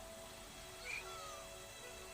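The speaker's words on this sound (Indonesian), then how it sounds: "Itu kucing kenapa dah?" A single faint, short cat meow rises briefly over a steady low hum, distant and soft with no other sounds.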